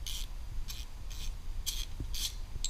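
A Craftsman ratchet wrench clicks up close, a few short bright ratcheting bursts spaced roughly evenly, several separate spins over a low steady background hum.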